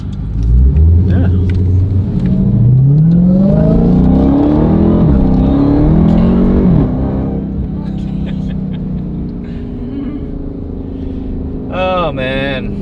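A car fitted with a new 180-degree thermostat accelerates hard along a road, its engine loud and close, rising in pitch through several climbs before easing off and revving up again.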